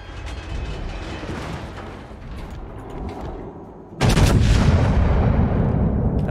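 Battleship guns fire in the World of Warships game, with a rolling low boom fading over several seconds, then a sudden loud salvo blast with a heavy rumbling tail.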